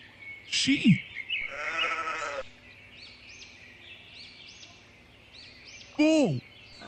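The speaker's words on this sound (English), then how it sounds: "Sheep." A sheep bleats in a wavering, nasal call as a cartoon farm-animal sound, set among short honking squawks and faint birdsong, with one more sharp call near the end.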